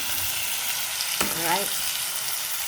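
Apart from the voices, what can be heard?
chicken browning in a frying pan for curry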